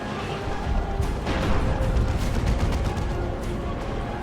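An Eldar D-cannon fires in Dawn of War 2 during an Eldar against Imperial Guard battle, a run of sharp cracking bursts and booms layered over a continuous loud rumble of combat.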